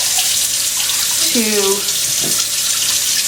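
Water pours from a Pyrex glass measuring cup into jars, a steady close splashing hiss that runs throughout, with a brief spoken word partway through.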